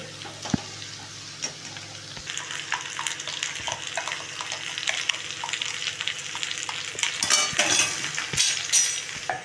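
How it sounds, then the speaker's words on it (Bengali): Potatoes fry in a pan with a steady sizzle, and a utensil stirs and clinks against it now and then. The frying grows busier and louder partway through, with sharper scraping bursts near the end and no voices. "দেখুন আমার আলুটা প্রায় ভাজা হয়ে গেছে। এই 7-8 মিনিট ধরে ভাজলাম।"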